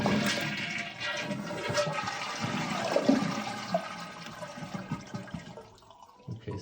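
A toilet flushes as its tank drains during a flapper repair, a steady loud rush of water and gurgling swirl that carries on for several seconds before tapering off near the end.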